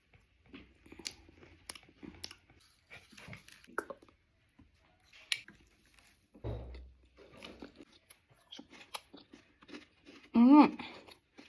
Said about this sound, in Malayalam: crispy crunchy, very tasty beef pickle